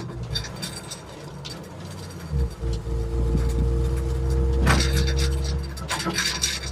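A Chevrolet C60 truck accelerating in third gear, its engine droning loud and steady with a low rumble that swells midway, joined by rattling and mechanical clatter from the shifter trying to pop out of gear.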